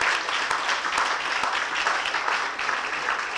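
A large crowd claps at an awards ceremony in a hotel, a dense, continuous roar of hands with a few sharper individual claps standing out, steady and fairly loud throughout.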